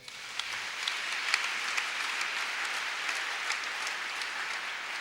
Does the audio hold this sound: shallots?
no